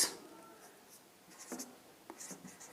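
Chalk or marker writing on a board during a class 10 maths lesson on cylinders, with short scratchy strokes and taps coming in quick bursts and a voice speaking faintly in between.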